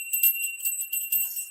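A small bell rung to clear a tarot reading, bright high tinkling strokes repeating in quick succession, faint and close, with no other sound.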